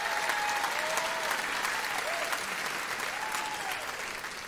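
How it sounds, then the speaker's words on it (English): A packed theatre audience at the London Palladium claps warmly in a sustained, even round of applause, moderately loud and diffuse, with faint sustained musical tones drifting underneath. "Give her a nice round of applause."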